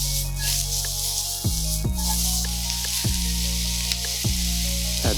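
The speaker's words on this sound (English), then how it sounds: "Our second round of stir frying starts with our onions," Onions sizzle loudly in a hot wok while stir-frying for yaki udon, a steady crackling hiss broken by periodic scraping clanks of a spatula stirring.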